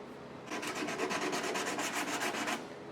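An Evercoat Z-Grip sanding block is rubbed in quick back-and-forth strokes, a rhythmic series of about fifteen close, even rasping passes, with quiet before and after.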